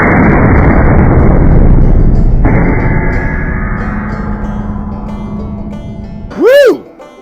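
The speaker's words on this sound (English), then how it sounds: "Boy, that was a fast-moving bullet right there." Single loud rifle shot from a .280 Remington at the range, a sharp blast followed by a long decaying rumble and echo, with a brief tonal whoop at the end.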